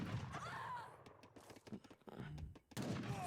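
In a real-time strategy video game, a villager is sniped with sharp gunshots, a few quick cracks and thuds scattered among quieter game sounds while a commentator talks.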